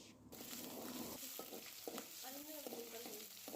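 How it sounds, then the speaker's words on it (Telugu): Cumin, mustard seeds, onion, green chilli and curry leaves fry in hot oil with a faint, steady sizzle, broken by intermittent scraping and stirring clatter. "ఆయిల్ మంచిగా హీట్ అయిన తర్వాత జీలకర్ర, ఆవాలు, ఉల్లిగడ్డలు, పచ్చిమిర్చి, కరివేపాకు వేసి కొద్దిగా వేయించండి."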